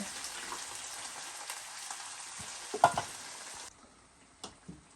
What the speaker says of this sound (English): So let this simmer